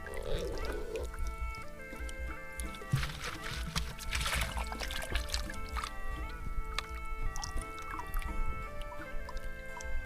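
A stream flowing out of a forest runs in a steady, close rush of water with constant trickling and gurgling throughout.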